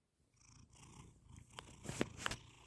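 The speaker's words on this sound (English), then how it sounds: "the way she purrs, it's like a motorboat" A pet cat named S'mores purring close and soft, a continuous rumbling motorboat-like purr that swells slightly louder toward the end, with no voices.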